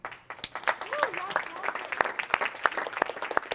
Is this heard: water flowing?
no